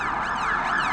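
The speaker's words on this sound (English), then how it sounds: "Kill the sirens round Granby House." Wailing emergency vehicle siren from a police unit, loud and close, sweeping up and down steadily through the whole second with no talk over it.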